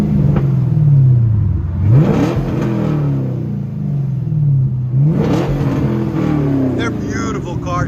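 A 2016 Chevy Camaro LT1 with a six-speed manual and straight-piped dual exhaust revs twice, loud and close. Each blip rises sharply and then falls back to a rumbling idle, with voices talking around it.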